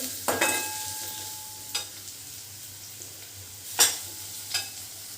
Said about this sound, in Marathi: एक तीस सेकंड आपल्याला हे फ्राय करून घ्यायचं आहे तेलामध्ये गॅस मी मोठा ठेवलेला आहे